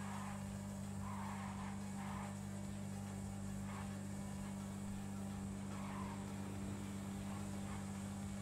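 Vehicle in a video game with no working brakes skidding along, a steady engine drone with repeated tire scrapes and squeals, fairly loud and continuous with no talk.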